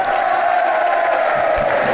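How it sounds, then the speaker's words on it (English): Football crowd at a Barnet FC versus Aldershot Town FC match cheering in a steady, loud, distant roar that fills the whole moment without pause. "Another brilliant cheer for Anthony Hartigan"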